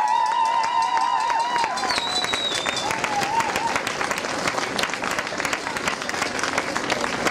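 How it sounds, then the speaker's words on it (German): Loud, sustained applause from a crowd at an outdoor Moabit Hilft rally, dense clapping throughout with some high whistles and cheers near the start and voices mixed in. "Vor allem für die mal einen ganz herzlichen Applaus bitte"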